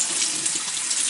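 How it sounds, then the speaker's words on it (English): Warm tap water runs steadily over canned chickpeas for hummus, a continuous close hiss and splash with no other sounds. "I rinse it with warm water in order to get rid of the juice that was in the can."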